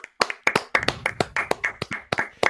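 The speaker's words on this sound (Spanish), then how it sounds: "Un aplauso para Backstrike." Sparse, close clapping from a few people welcoming a presenter of an esports sports-news show, individual sharp claps in an uneven rhythm rather than a full crowd.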